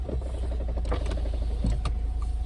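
A steady low engine and road rumble from inside a moving car on a hot day, with faint clicks and rattles over the constant hum.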